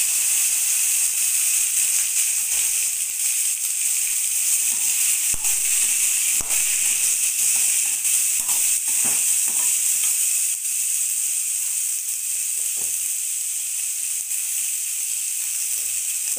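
Mango pieces fry in hot oil with dried red chili and curry leaves, giving a loud continuous sizzle and hiss with occasional stirring scrapes close by.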